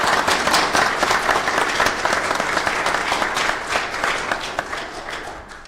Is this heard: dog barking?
no